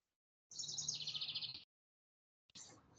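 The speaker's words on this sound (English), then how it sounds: "we can hear the birds" Birds chirping in the background of an online webinar participant's room, a rapid trilling burst of high tweets followed by silence and another brief chirp, faint and alone.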